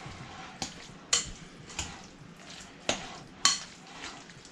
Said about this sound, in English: And you just mix it up.